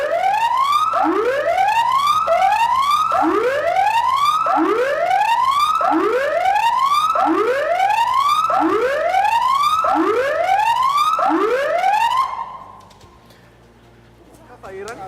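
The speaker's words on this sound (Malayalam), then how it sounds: "അവസാന സൈറനാണ് ഈ കേൾക്കുന്നത്" A loud air raid warning siren during a mock drill wails, rising and falling in a steady repeating cycle for several seconds, then cuts off, leaving quiet background noise.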